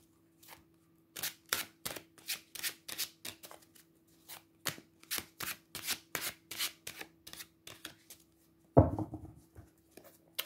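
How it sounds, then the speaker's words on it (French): Tarot cards are shuffled close by in quick rhythmic riffling bursts, followed by a single card slapped down on a table. "Et on va tirer une première carte ensemble."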